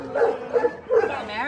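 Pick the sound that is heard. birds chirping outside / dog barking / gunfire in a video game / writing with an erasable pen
dog barking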